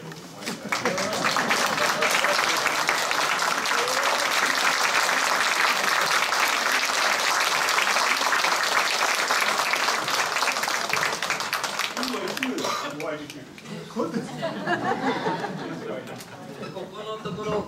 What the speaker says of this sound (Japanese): みんなから拍手で最後に参りたい。